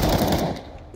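A short, loud, rapid burst of automatic gunfire in Counter-Strike on the de_vertigo map, close and dense before cutting off within a second.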